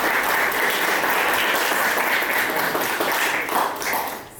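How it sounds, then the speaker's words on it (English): Sustained applause from an audience at a town hall event for a student, dense and fairly loud clapping that holds steady before tapering slightly at the end. "There's another round of applause for this fantastic student."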